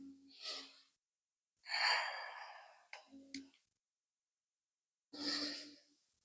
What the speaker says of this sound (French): Une belle inspire, une belle expire.